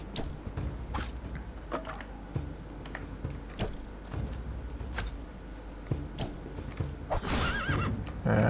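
Horse in the video game Two Worlds 2: repeated neighs and whinnies mixed with clip-clop hoofbeats and small mechanical clicks, fairly quiet and without talk, with a louder whinny near the end.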